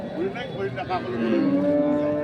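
A dairy cow at a busy livestock market in Dinajpur moos loudly and at length nearby, one drawn-out low call over a murmur of crowd noise.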